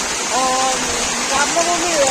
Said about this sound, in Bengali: প্রচন্ড পরিমাণে বৃষ্টি হচ্ছে আর হাওয়া